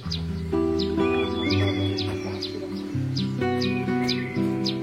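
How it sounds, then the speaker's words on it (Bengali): Several kinds of birds chirp and tweet in a quiet hill village near Mulkharka Lake in Kalimpong, with short repeated calls over a steady low background hum. "নিস্তব্ধ পরিবেশে সব সময় বহু রকম পাখির ডাক শোনা যায়।"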